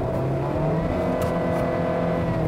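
A Volvo V90 T5 estate engine runs steadily while the car shifts in manual mode, a continuous droning hum with slight pitch changes heard from inside the cabin.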